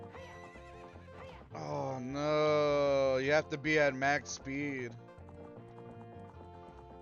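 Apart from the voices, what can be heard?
horse Epona galloping in a video game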